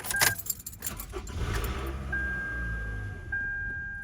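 Keys jangle briefly, then a 2010 Toyota Camry 2AR engine cranks and starts, settling into a steady idle hum with a faint electronic tone over it.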